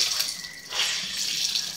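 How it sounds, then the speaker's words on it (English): Water squeezed by hand out of a block of thawed frozen tofu into a kitchen sink, a soft splashing trickle that runs continuously and close, briefly swelling midway. "So I squeeze some of the water out into the sink"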